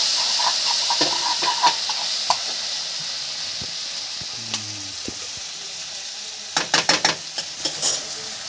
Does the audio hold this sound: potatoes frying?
yes